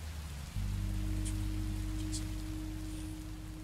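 Video game rain: a steady hiss with a low droning hum underneath, a few faint patters and drips scattered on top, continuous and fairly close.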